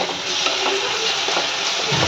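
Masala sizzling in hot oil, fried down until the oil separates, while a chickpea curry cooks; a steady close crackle and hiss runs throughout with no voices.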